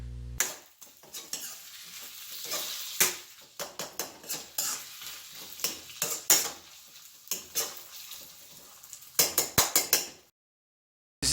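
Chorizo and potatoes cooking in a pan while being stirred: repeated sharp scrapes and clanks of a utensil on metal over a faint sizzle, coming in uneven bursts before a sudden stop into silence.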